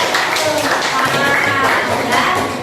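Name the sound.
class applauding for group 4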